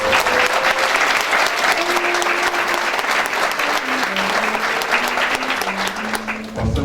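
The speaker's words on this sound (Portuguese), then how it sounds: "Peço uma salva de palmas aos agraciados." A crowd at a medal and honours ceremony in Ouro Preto gives loud, sustained applause that continues steadily throughout, with a faint tonal hum underneath.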